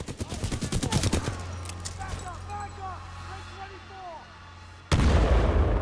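Gunfire in the shooter video game Titanfall 2: a rapid burst of sharp, loud shots, then a stretch of quieter tonal game effects, ending with a sudden heavy blast of fire.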